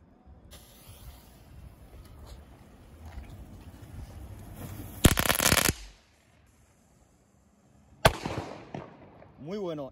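Two sharp, loud bangs of firecrackers, the first a short burst midway and the second near the end, over faint outdoor wind noise.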